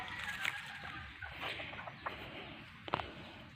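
Backyard chickens cluck softly around a home garden with banana plants, a few short calls and scattered peeps over faint background noise, fairly distant and quiet.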